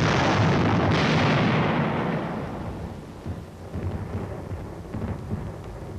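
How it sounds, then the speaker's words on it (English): Artillery surface and air bursts from the Korean War: a heavy, rolling boom that fills the first seconds loudly and close, then decays into a long rumbling tail with scattered further crackling blasts, no talk. "Surface and air bursts clear the way for the riflemen."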